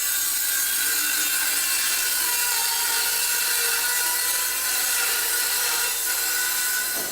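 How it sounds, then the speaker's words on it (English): Circular saw cutting plywood for a straight-cut jig base, a steady loud high-pitched whine of blade through wood lasting throughout, close by. "So when we're cutting the ply, which will make the base of our jig"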